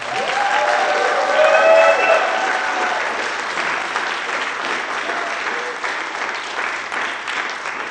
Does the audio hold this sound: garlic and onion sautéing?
no